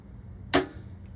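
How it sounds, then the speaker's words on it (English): A glass strip snaps along its score line in a glass knife maker: one sharp, crisp crack that rings briefly in an otherwise quiet room. "that's the sound of a breaking glass"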